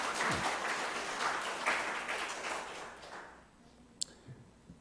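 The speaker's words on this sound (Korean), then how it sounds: "우리 스스로 이제 박수." An audience at a talk applauds itself, dense clapping that fades over about three seconds into near quiet with a couple of isolated clicks.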